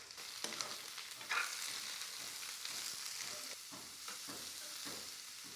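Finely chopped cauliflower fries in a pan with ginger and garlic, giving a steady close sizzle broken by occasional stirring scrapes and clinks, with no talking.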